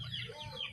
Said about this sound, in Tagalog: mga manok guys oh